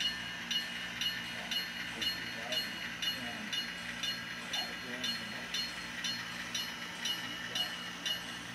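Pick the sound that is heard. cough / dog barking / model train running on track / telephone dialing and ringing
model train running on track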